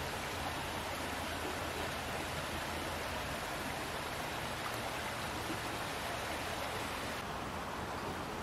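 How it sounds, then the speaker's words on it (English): Steady, broadband rushing of White Mud Creek in Edmonton's MacTaggart Sanctuary fills the whole stretch, a constant close wash with no voices. "This is the White Mud Creek."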